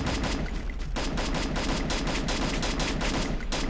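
Rapid, loud bursts of gunfire from a video game played on an emulator, a dense unbroken volley of shots with a brief dip near the start, no voices over it.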